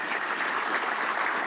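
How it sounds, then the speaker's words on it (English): Dense, steady applause fills a mining technical summit hall after a speaker leaves the stage, a full crowd clapping evenly and loudly for the whole moment. "A huge round of applause for Dr. Allen, please."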